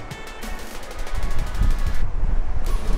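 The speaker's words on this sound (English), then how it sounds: "It's super windy, but it's absolutely beautiful." Strong wind buffeting the microphone at a beachside campground, loud rumbling gusts that build and swell, with a brief fluttering whistle early on and no talking.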